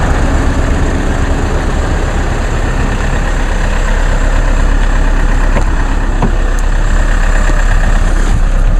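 A diesel engine idles after a cold start at 23°F, a loud, steady, close-up clatter and rumble that holds unchanged throughout with no talking.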